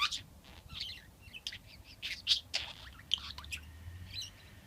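A pet budgie chirps close by in quick, bright, scattered bursts over a faint low hum.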